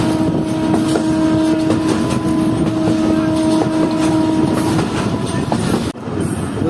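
The Mohen Jo Daro Express rolls into Mohenjo-daro station in rural Sindh with a loud, steady rumble, thin sustained wheel squeal and rhythmic rail clatter that drops off abruptly near the end.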